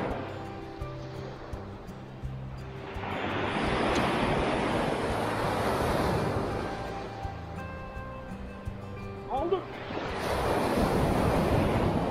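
Sea surf breaks on the beach at Gazipaşa, where waves swell and crash in long, loud surges with heavy wind noise on the microphone. Faint tonal sounds drift in the background.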